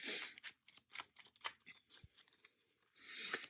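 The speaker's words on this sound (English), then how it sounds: "So I'm getting the deck all shuffled up here." A deck of trading cards being shuffled by hand, giving a run of quick crisp riffling and slapping bursts close to the microphone, with a louder flurry near the end and no talking.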